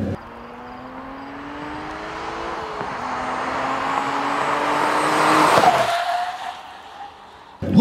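A fast car works hard around a tight race track, its engine droning and rising in pitch, then a brief scrub of braking before the revs drop sharply, heard from close inside the cabin.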